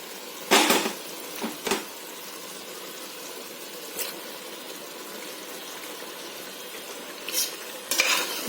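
Marinated mutton is stirred into a spice paste frying in oil, with a faint sizzle underneath and a few sharp scrapes and clatters of a spoon against the pot.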